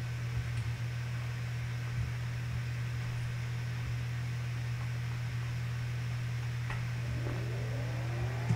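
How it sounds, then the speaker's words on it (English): Wind ambience plays on the Battleside Gulch map in Halo Custom Edition, a steady, even hiss over a constant low hum, with a few faint chirps near the end. "Oh, the wind works. Yes, nice. I got the wind to work."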